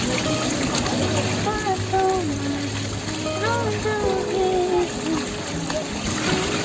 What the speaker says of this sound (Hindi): हम सब्जी धो रहे थे